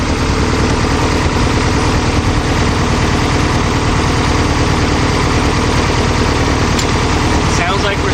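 A VW Type 3 engine with dual carburetors idles evenly, a loud, close, steady low throb with constant vibration and a voice heard faintly over it.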